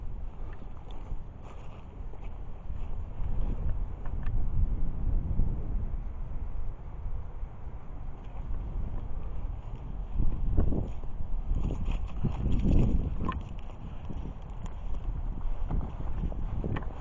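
Wind buffets a camera microphone outdoors in a cemetery, producing uneven low rumbling gusts that swell and fade over about seventeen seconds, louder bursts near the middle, with no talking.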